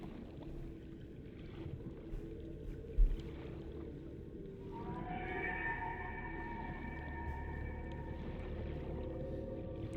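Eerie, drawn-out tonal calls of a juvenile Ghost Leviathan drift through the Lost River in Subnautica, rising in layered wails over a low, murky underwater rumble after a quieter, wind-like stretch.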